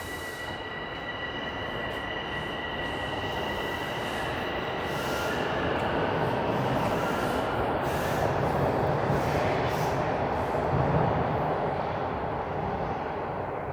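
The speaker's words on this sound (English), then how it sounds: "I hear a train coming in." A northbound train rumbles into a Toronto station, its steady roar growing louder with faint high wheel squeals, heard from the platform without any talking.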